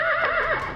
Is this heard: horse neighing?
yes